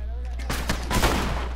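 Shotgun blasts in The Last of Us combat, a few loud broadband bursts near the middle, with a low steady rumble underneath.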